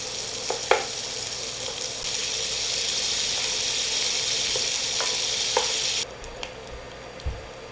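Pancetta sizzles in a pan as it cooks until crispy, a steady, loud frying hiss with a few clinks of stirring, until the sizzle suddenly drops off near the end.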